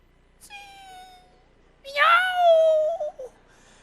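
Two meows from a person imitating a cat in a church service: a short flat call, then a longer, louder one that rises and trails off in a wobble, both close and clear over a quiet room.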